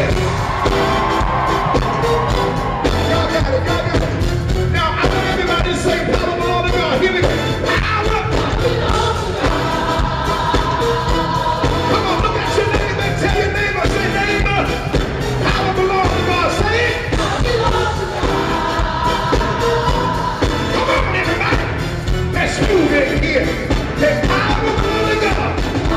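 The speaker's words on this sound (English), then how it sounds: "Somebody scream in here." A gospel church congregation screams and cheers at full volume, a dense roaring crowd of whoops and yells sustained throughout alongside loud music in a live worship service.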